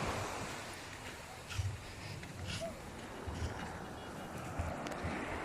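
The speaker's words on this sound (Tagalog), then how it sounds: "Yun yung karagatan ng Taiwan na yan dyan." Ocean waves along the shore near Sta. Ana, Cagayan, wash in at night as a steady, moderately faint surf hiss with occasional soft thumps and light wind noise.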